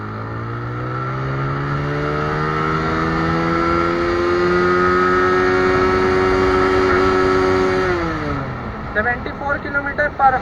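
A TVS Apache RTR motorcycle pulls hard in second gear, its engine note climbing steadily and loudly for about eight seconds before easing off into a choppy, uneven idle-like rumble.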